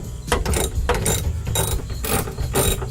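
Ratchet clicking in a quick rapid rhythm while loosening 10 mm bolts on a glove box bracket inside a 1988 Toyota 4x4 van, close and steady with repeated bursts of pawl clicks.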